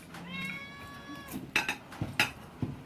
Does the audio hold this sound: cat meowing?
yes